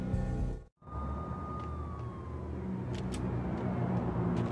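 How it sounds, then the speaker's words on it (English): Police car sirens wailing in the video game Max Payne during a storm, a long descending wail over rumbling rain and background noise, moderately loud after a brief silent cut. "The storm was a screaming duet with the approaching prowl car sirens."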